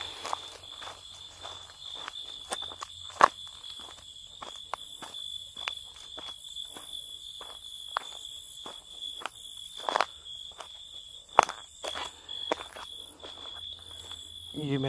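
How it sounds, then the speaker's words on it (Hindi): Footsteps crunch outdoors at night, a steady run of close, sharp steps over a constant high insect or cricket drone, with a faint low hum beneath. "ये मेरे पैरों की आवाज़ है"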